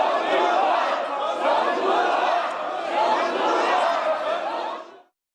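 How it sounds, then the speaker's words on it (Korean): Legislators in South Korea's National Assembly plenary chamber shout and boo, a loud, dense, continuous roar of many overlapping angry voices that cuts off abruptly at the end. "본회의장에선 윤 의원을 향해 전두환이라는 고성과 야유가 쏟아졌습니다"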